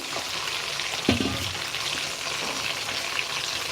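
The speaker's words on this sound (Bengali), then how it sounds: "মাছের কাঁটাগুলোকে আমি কিন্তু ভেজে নিয়েছি" Fish bones fry in hot oil with a steady close crackling sizzle, a single brief clatter of stirring near the start, no talking.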